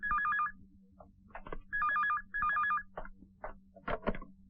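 A telephone rings in an indoor home setting, its electronic warbling ring sounding in three clear bursts, with soft footsteps and small movement noises between and after the rings.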